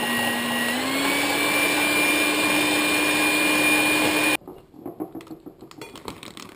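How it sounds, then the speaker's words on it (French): An electric hand mixer whips chilled cream blended with white chocolate, a steady loud motor whine with a rising pitch that runs for about four seconds, then cuts off to faint clinks and handling noises. "Je monte la crème que j'avais placée toute la nuit au réfrigérateur."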